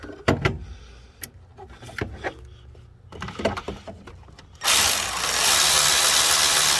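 A ratchet tightens the alternator bolt on a 1991 Mazda Miata, giving scattered sharp clicks and clunks of metal work up close, followed by a sudden loud steady rush of noise.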